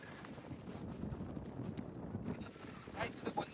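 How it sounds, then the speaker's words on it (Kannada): A speed boat out on the backwater in Coorg, a distant motor drone largely buried under heavy wind buffeting, with voices talking over it. "ಅಲ್ಲೊಂದು ಸ್ಪೀಡ್ ಬೋಟ್ ಹಿಂಗೆ ಮಜಾ ಮಾಡ್ತಿದೆ"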